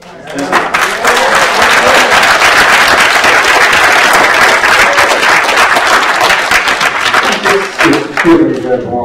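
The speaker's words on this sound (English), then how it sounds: "I see people applauding" An audience at a California public utilities hearing on PG&E breaks into sustained applause, a dense, loud wash of clapping that holds steady for several seconds with a few voices mixed in.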